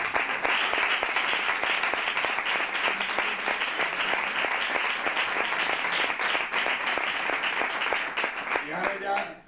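Audience at a young flamenco performers' semifinal applauds the flamenco club of Estella and the jury, a dense, steady roar of many hands clapping close and loud for several seconds before it begins to fade.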